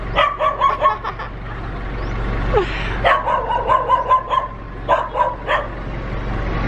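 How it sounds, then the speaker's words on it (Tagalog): A dog barks over and over from somewhere behind the house in Bantay, Ilocos Sur, just before 6 AM, in repeated clusters of sharp barks with brief pauses, fairly distant against a steady low background hum. "merong asong tahol ng tahol dun sa likod"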